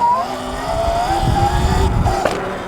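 Sur Ron electric dirt bike whining as it pulls a brief mini wheelie on a trail, a rising and falling electric motor tone with wind rumble, close and loud for a couple of seconds.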